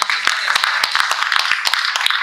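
An audience at the Garje Marathi Global Excellence Summit breaks into applause, a steady close wash of many hands clapping with sharp individual claps standing out throughout.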